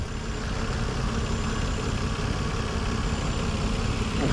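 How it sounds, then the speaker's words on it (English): Nissan VQ35 3.5-litre V6 in a 2004 Maxima SE idles steadily, a dense continuous rumble heard close, with no voices. "So here we have the VQ35, Nissan's legendary V6."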